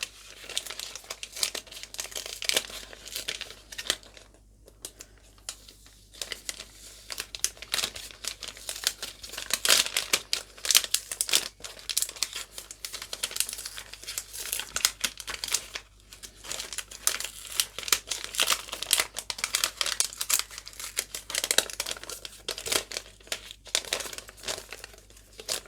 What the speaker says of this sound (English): So here I have a little envelope.